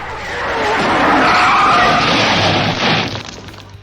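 A stunt Mustang from the Bullitt chase skids off course, a loud, sustained screech of tyres swelling over about three seconds with crunching, shattering impact noise before fading.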